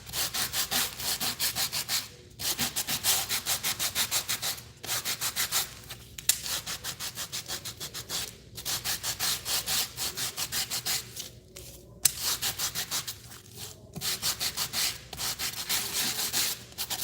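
Paint being sanded off the raised surface of embossed paper, steady close back-and-forth scratchy rubbing strokes in bursts with brief pauses between them.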